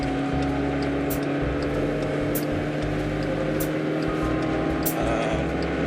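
Volkswagen Polo sedan with a 1.6 litre MPI engine driving, a steady low engine drone and road rumble filling the whole stretch with brief higher ticks recurring every second or so.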